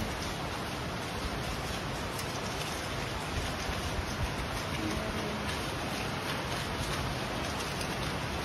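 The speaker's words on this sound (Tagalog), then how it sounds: "Ang lakas ng ulan." A steady, dense roar of heavy typhoon rain pours without letup, loud and close, with no voices.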